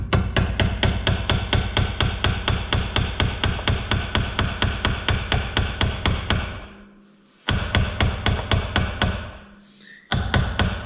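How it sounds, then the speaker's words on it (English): A small ball peen hammer taps a pin into a trolling motor propeller in fast, even, close metallic strikes. The run of blows pauses briefly, resumes, pauses again and starts once more. "Small ball peen hammer, and tap her in."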